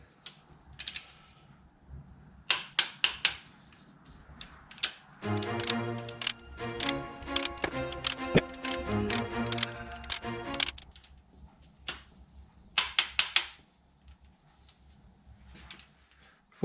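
A torque wrench tightens cylinder head bolts on a Suzuki Alto engine with a cracked head. Close, sharp ratcheting clicks come in several runs, including a long steady ratchet in the middle, with short pauses between bolts.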